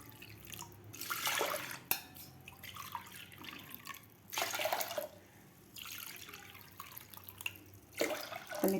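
Water from a tap runs in bursts into a pot of rinsed chana dal in a home kitchen, three separate pours with quiet gaps between, close and fairly soft, with no talking.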